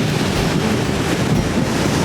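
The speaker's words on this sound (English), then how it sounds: "Fairly stiff wind coming off here" A stiff wind blows in off the sea on the Spanish coast, a loud, constant rush of gusts buffeting close by over a background roar of surf.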